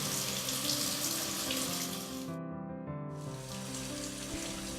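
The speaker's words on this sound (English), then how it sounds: "Turn on the faucet and allow a steady stream of cold water to flow for at least 5 minutes before sampling." Cold water runs from a faucet in a steady stream, a continuous close splashing hiss that briefly changes tone midway before resuming, with no voices present.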